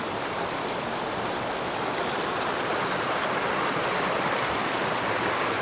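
A farm river flowing at full volume in summer, giving a steady, loud rush of water close by that continues without a break, and no voices can be heard over it.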